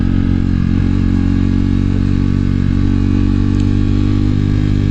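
A KTM RC390 motorcycle engine idles steadily and loudly up close, a constant low mechanical drone with slight clatter and no change in pace, warming up before a Power Commander V tune.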